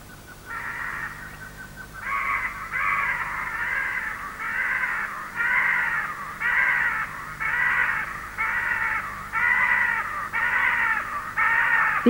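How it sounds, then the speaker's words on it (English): Blue and gold macaws flying over Amazon rainforest canopy, giving a steady series of harsh, raucous squawks in repeated bursts, fairly loud and continuous, with no talking. "These are blue and gold macaws."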